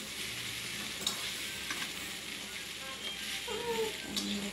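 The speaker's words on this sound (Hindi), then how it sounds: "ଆପଣ ଧୀରେ ଧୀରେ ଏମିତି ଚଲାଇଲେ ତ ଧୀରେ ଧୀରେ ସେ ଚାଉମିନ୍ ଆଉ ମସଲା ମିକ୍ସ ହୋଇଯିବ" Egg chowmein tossed with masala in a hot pan, giving a steady, close sizzle with scraping stirs and a few clinks throughout.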